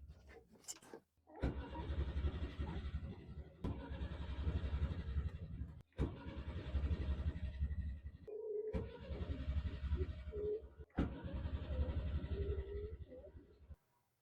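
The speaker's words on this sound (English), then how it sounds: "I need to be able to turn on the engine. And right now the engine doesn't want to start." A boat engine cranks repeatedly without catching, five long grinding starter bursts of about two seconds each, separated by short pauses and sharp clicks, close and fairly loud with no speech.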